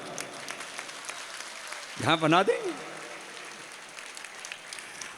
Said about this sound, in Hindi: तब ताली बजा रही हैं